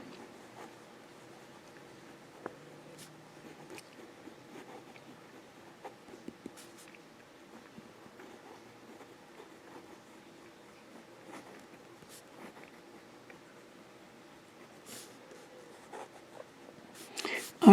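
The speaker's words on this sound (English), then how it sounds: "Reverse writing." Fine-nib Hero 3019 fountain pen dragged upside down across paper in reverse writing, giving a faint, scratchy patter of small strokes and ticks, close and quiet, with a few sharper taps near the end.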